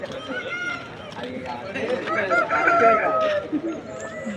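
A rooster crows once amid the busy rooster market in Vijayawada, a rising drawn-out call rising over constant crowd chatter and nearby talking.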